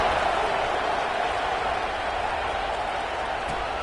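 A stadium crowd in a college football video game keeps up a steady roar at the kickoff, broad and continuous with no clear peaks.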